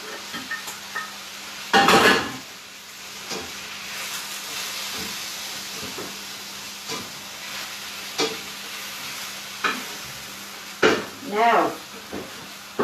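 Venison and vegetable stir-fry cooking in a pan, a soft continuous sizzle with hissing steam bursts, clattering utensils and scraping, while a person talks intermittently.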